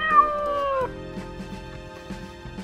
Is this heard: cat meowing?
yes